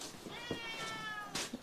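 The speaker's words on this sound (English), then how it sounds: "We have moved these kittens numerous times, and we got problems." Several young kittens meow in short, thin cries from close by, with one longer wavering call and a couple of brief squeaks, fairly quiet and with no talking.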